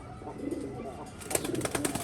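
A pigeon coos in soft, repeated low calls at close range, fairly faint against a light background rustle, with no talk.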